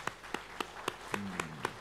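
A few slow, distinct claps from a church congregation during a Sunday worship service, sparse and fairly quiet, with a low tone underneath.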